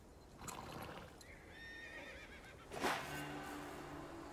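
A horse from the video game Prince of Persia: The Lost Crown whinnies, a drawn-out neigh rising over faint background ambience, with a short louder burst near the end.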